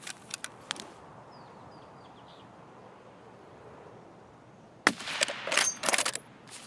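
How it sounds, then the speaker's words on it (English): Sniper rifle fire at a Sniper Scav in the game Escape from Tarkov's Customs map, a few sharp shots early, a quiet stretch of wind and birds, then a loud crack followed by a cluster of further bangs. "I'm just going to take him out with my sniper"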